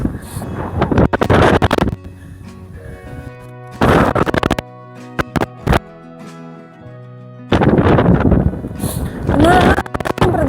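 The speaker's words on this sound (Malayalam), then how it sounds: "പ്രതീക്ഷിക്കാത്ത പോലെ ഇന്ന് ഭയങ്കര കാറ്റ്." Strong sea wind at Heysham beach buffets the microphone in loud, roaring gusts that come and go in bursts, with calmer stretches between them and faint background tones.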